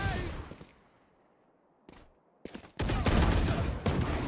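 Gunfire in a first-person shooter video game: rapid shots fade into near silence, then a lone crack comes and a loud sustained burst of firing closes the clip.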